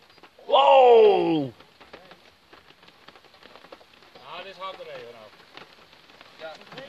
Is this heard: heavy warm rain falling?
yes